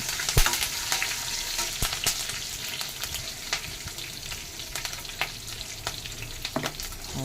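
Curry leaves crackle and sizzle in hot oil as a tempering for a yam and amaranth-leaf curry, with steady frying hiss broken by sharp pops and spatters throughout, close and continuous with no talk.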